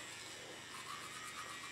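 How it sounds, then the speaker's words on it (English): Cheap dollar-store electric toothbrush vibrating with a steady, even buzz held throughout, fairly quiet and close, with no voices. "I got my toothbrush here that I got and turned it on. It does vibrate"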